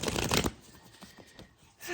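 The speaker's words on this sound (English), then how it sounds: "I'm giving it a good shuffle" Tarot oracle cards being shuffled, a loud, dense riffling burst for about half a second, then quieter papery shuffling and soft rustle that picks up again at the end.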